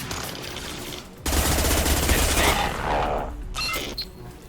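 Sustained rapid gunfire in the video game Mass Effect 2, loud and dense, a continuous burst broken by a brief gap before more firing.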